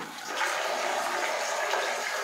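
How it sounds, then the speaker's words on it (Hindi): Water pours from the inlet nozzle into a toilet flush tank as the cistern refills, a steady rushing hiss that swells early on and then holds constant, close by, with no talk. "पूरा फ्लश टैंक यहाँ तक भरने तक, जहाँ तक पानी का मार्किंग है वहाँ तक भरने तक आपका साउंड आएगा"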